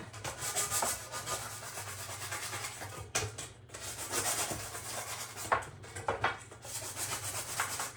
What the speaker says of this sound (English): I gotta make sure you scuff it up a little bit.